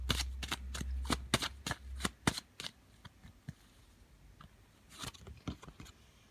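Playing cards are shuffled in a rapid riffle of sharp, close flicks, followed by a pause and a few softer slides and snaps as a card is drawn.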